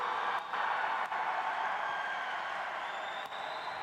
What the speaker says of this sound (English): Listen to that hometown crowd supporting their athlete.